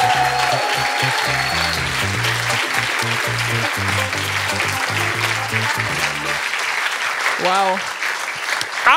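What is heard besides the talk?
studio audience applause for game winner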